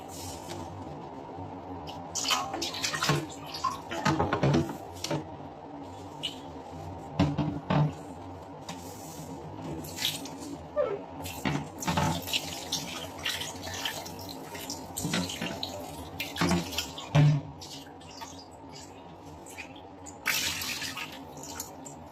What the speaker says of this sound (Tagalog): linisin muna natin ng tubig bago natin lagyan ng tubig na pampakulo para ano na siya, malinis na malinis talaga